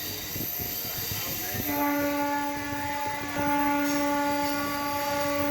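A MEMU train between Secunderabad and Warangal gathers speed, its rumble joined by rising steady motor whine tones that step up in pitch, with a faint voice at the start.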